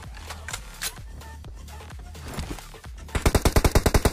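A gun in PUBG Mobile fires a rapid automatic burst of about a dozen sharp, evenly spaced shots near the end, after a stretch of busier, mixed in-game noise.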